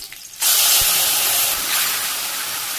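Leafy taro greens hit hot oil with fried green chilies in a village kitchen pan in Bangladesh, and a sudden loud burst of hissing sizzle follows. The sizzle holds steady and close, then eases slightly.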